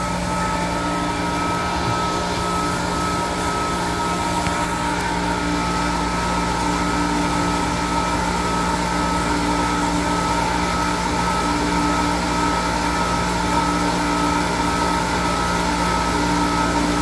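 Supermarket vacuum drain waste disposal system running under diagnostics, a loud continuous mechanical drone with steady humming tones and a rumbling undercurrent that holds unchanged throughout.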